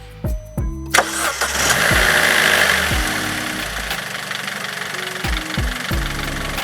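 A straight-piped Vauxhall Corsa D 1.4 SXi cranks and fires up, then runs with a rough, lumpy exhaust note, repeated sharp throttle blips rising and falling over a loud close idle.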